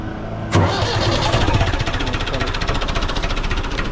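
A tractor engine cranked by its starter motor catches within about half a second and settles into a loud, steady, knocking diesel-like run close by.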